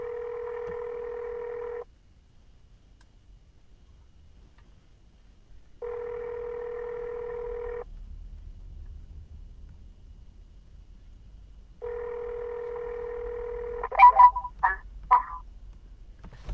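Outgoing telephone call: three long ringback tones spaced evenly with silent gaps, followed by a few short clicks and beeps as the line connects, clear and alone with no talk.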